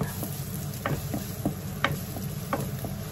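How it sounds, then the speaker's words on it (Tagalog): Garlic sautéing in a pan gives a continuous close sizzle, broken by irregular light clicks and taps of stirring. "Igisa ng konti until color brown na po siya."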